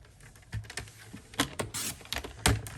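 A paper trimmer slices cardstock into quarter-inch strips for a Stampin' Up! card, giving a series of short, crisp cutting swipes and clicks at close range, spaced unevenly with quiet gaps between strokes.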